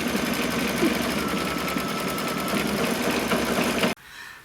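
A sewing machine runs steadily through satin and top stitching, a continuous close, loud mechanical whir with a fast rhythmic needle beat that stops abruptly near the end, leaving faint room noise.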